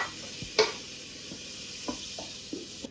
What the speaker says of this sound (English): So, hot pan, a little butter. To it, I'm adding the onion.